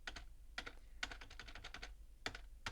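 Keys clack on a computer keyboard while a clicker game made in C# is played, with short bursts of crisp taps in uneven clusters, close up and fairly quiet, with no voices.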